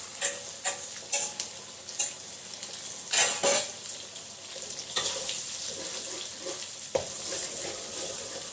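Beaten egg poured into a hot pan while cooking Malaysian-style anchovy fried rice, giving an uneven run of sizzling, splattering bursts, several sharp flares, and hissing that settles into a softer steady fry.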